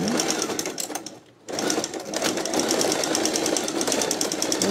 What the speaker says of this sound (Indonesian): Kita jahit getah